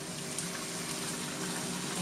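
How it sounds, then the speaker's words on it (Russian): Boiling water from a kettle pours steadily over rice layered on meat and vegetables in a frying pan, a continuous loud splashing rush with no talk. "И заливаю горячей водой, кипяток."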